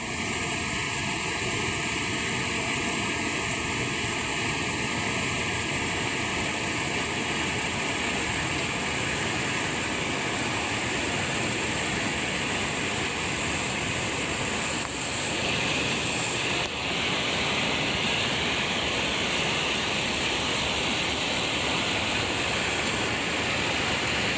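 Strong river current rushing downstream from an open dam, a steady, loud broadband roar of churning water that holds constant throughout with no voices.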